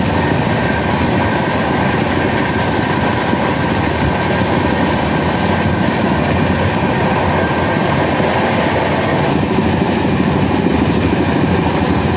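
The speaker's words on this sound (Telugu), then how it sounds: "ఎలుగు స్టేషన్లో ఫుల్ స్పీడ్గా అయితే వెళ్తుంది మా ట్రైన్ వచ్చేసి" The Golconda Express, running at about 130 km/h, roars through a station at full speed in a loud, dense, unbroken rush of wheel and wind noise, with no voices.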